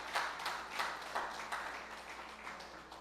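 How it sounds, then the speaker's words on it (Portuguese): A church congregation claps for Jesus, several soft bursts of scattered applause at a distance, fading slightly over a few seconds with no voices over it. "dê uma salva de palmas para o Senhor Jesus"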